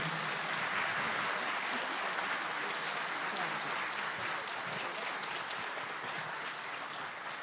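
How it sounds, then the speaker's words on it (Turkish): Audience applause at a Turkish political rally, a dense, sustained roar of clapping from a large crowd, loud and steady throughout with no pauses. "Kocaman alkışlarımızla."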